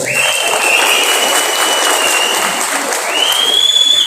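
A large crowd at a Kamal Haasan election campaign rally in Thoothukudi claps in a continuous loud roar, with long, sharp whistles rising over it twice.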